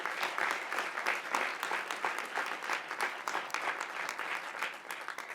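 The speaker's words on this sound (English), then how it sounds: "One more round of applause." Commencement audience applauding, a dense, steady wash of many hands clapping at a moderate distance, sustained throughout with slight swells and no voices on top.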